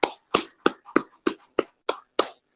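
Eight sharp, separate hand claps ring out close by in a quiet room at a bookstore author event, evenly spaced at a steady rhythm with no talking.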